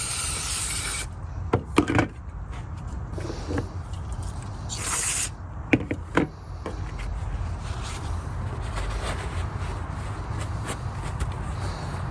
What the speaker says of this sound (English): I'm just going to go ahead and spray it.